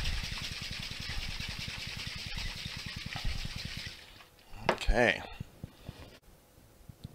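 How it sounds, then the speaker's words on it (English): A Painkiller cocktail shaken vigorously in a shaker, a rapid rhythmic rattle of ice for about four seconds, then it stops and a person speaks. "once all those ingredients are in our shaker, we want to go ahead and shake this vigorously"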